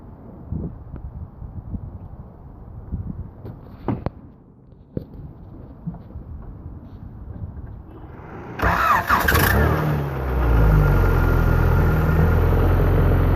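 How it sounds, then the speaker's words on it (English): Faint clicks and rustling give way to a Honda engine in a 2003 Mazda Protegé cranking and catching, then a loud, steady idle rumble close by. "We're gonna fire it up right now. You guys can hear it."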